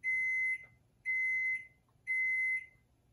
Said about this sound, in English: the beeping, listen.